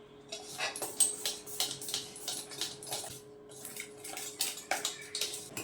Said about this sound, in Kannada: ಸೊ ಇವಾಗ ಇದಿಷ್ಟು ಚೆನ್ನಾಗಿ ಮಿಕ್ಸ್ ಮಾಡ್ಕೋಬೇಕು